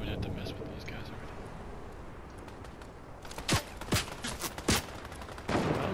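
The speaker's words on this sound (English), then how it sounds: "Who else is shooting us?" Video game gunfire during a rooftop firefight: several sharp, loud shots burst out in quick irregular succession over a low ambient bed, with quiet talk earlier.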